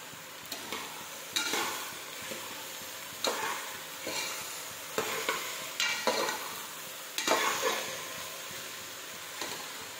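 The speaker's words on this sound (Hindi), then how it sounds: "और इसे भूनने के लिए छोड़ देंगे थोड़ी देर के लिए।" Ridge gourd and chana dal fry in a pan with a soft sizzle under repeated scraping stirs of a spoon, the strokes landing every second or so.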